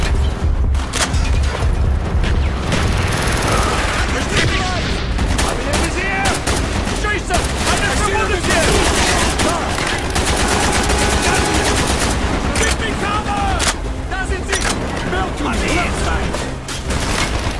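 Dense automatic weapon fire and explosions from a Black Ops video game battle run continuously, loud and close, with shouted voices mixed into the chaos.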